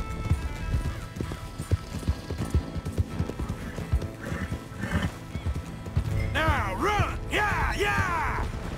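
A Mustang horse's hooves pound in a quick galloping rhythm in Red Dead Redemption 2, followed by loud neighing whinnies near the end.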